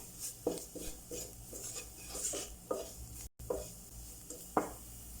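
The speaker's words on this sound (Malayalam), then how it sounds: "എല്ലാം കൂടെ മിക്സ് ചെയ്യാം" Spoon stirring chili powder into a macaroni pasta sauce in a pan, a series of short scraping knocks roughly every half second over a faint sizzle, close and alone with no talk.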